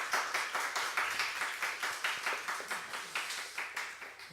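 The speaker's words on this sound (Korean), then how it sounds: "우리 하나님께 박수 한번 보냅시다" A church congregation gives a round of applause, a steady patter of many hands clapping in fairly quick rhythm, heard at moderate distance without voices over it.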